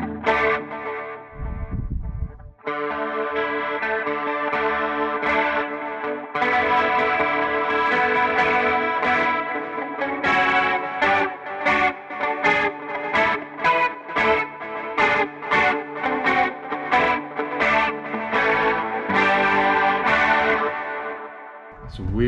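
Electric guitar from a James Tyler Variax played through the Line 6 Helix Bellhaven factory preset, with a heavily effected, spacious and echoing tone, sustained chords giving way to rhythmic picked notes, loud and continuous.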